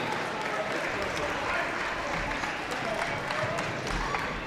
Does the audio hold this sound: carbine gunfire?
no